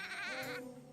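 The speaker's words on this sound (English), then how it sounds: "Goat." A single wavering bleat from a goat or lamb in the Labyrinth of Refrain: Coven of Dusk video game, lasting about half a second, quivering and fairly clear over a faint low hum.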